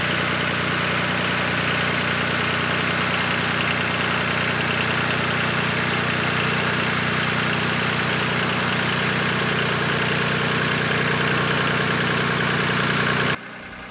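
A tractor engine runs steadily while planting garlic in a large garden field, a loud, even diesel drone with a low rumble that continues unbroken before cutting off at the very end.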